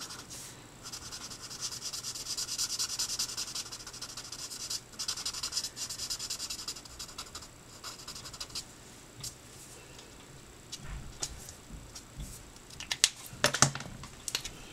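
Quiet, close scratchy rubbing of Promarker alcohol markers colouring and blending on paper, in continuous strokes with brief pauses and a few sharper taps near the end.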